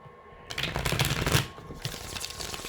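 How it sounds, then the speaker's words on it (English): A deck of tarot cards is riffled and shuffled close up, a quick papery flutter followed by softer sliding and tapping. "just give me a few shuffles here"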